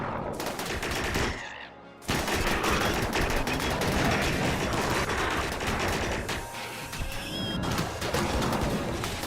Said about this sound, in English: Rifle with EMP rounds.